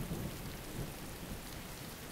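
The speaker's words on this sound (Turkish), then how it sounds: "Yağmur damlalarının yüzüme vurmasını seviyorum ben." Steady rain falls over a low, rumbling thunder backdrop. The wash is faint and continuous, with soft low thuds of distant thunder.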